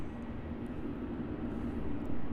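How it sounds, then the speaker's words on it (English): A Virgin Australia Boeing 737-800 departing from runway 34 at Melbourne Airport, a steady broad jet engine roar with a low droning hum, fairly loud and distant-sounding, with no voices. "So departing off runway 34 now, we have the Virgin Australia 737-800."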